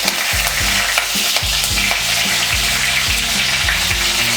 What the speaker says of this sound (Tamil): இதை நல்லா வதக்கி விட்டுக்குங்க.